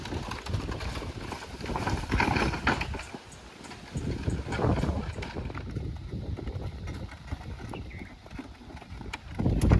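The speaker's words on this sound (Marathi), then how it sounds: "बैलगाडी घेऊन आलोय" Bullocks pull a cart toward a forest water tank, their hooves clopping in an uneven stream over a rumbling, rattling wheel noise outdoors.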